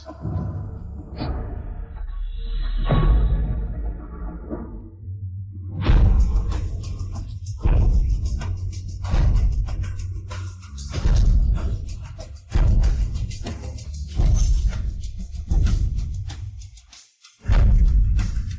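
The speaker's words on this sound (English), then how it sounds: "it's the sound of the drum." A ceremonial drum beaten in a historical palace drama, heavy low thuds and strikes recurring every second or so for most of the stretch, loud and close, with a brief drop to near silence before a final hit.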